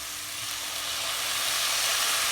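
Leeks in a hot pan give off a bright, steady sizzle that swells louder as liquid is poured in to deglaze, a continuous hiss with no voices.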